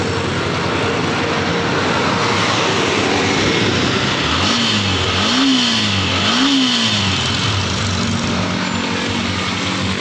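A Suzuki Sniper MX150 motorcycle engine idling after a clutch housing repair, running steadily and close by, with a few short throttle blips in the middle that rise and fall in pitch. No one speaks.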